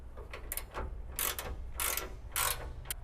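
Ratchet tightening the mounting bolts of a Brute rear bumper on a 2017-2022 Ford F-250/F-350 truck, sounding as several bursts of rapid clicking separated by short pauses, fairly close and alone.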